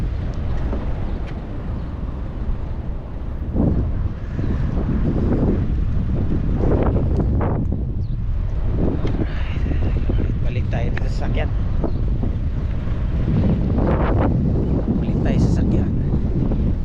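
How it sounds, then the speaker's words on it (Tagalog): Steady wind buffeting the microphone outdoors by the sea at a fishing area in Jeddah, Saudi Arabia, with people talking intermittently over the constant rushing noise. "sarap ng hangin"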